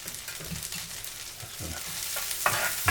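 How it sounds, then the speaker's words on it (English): Flour cooking in a pan for egg chowder, a soft continuous sizzle under repeated close scraping and stirring strokes, fairly quiet and steady with no talk. "You just want to slightly cook it down. Cook off the flour."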